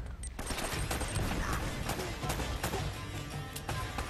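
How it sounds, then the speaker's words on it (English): Gunfire rattles through a firefight in Uncharted: Drake's Fortune, rapid sharp shots and bursts layered over a dense, noisy explosion-like roar, loud and continuous. "Grenade."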